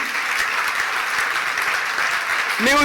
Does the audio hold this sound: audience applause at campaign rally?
yes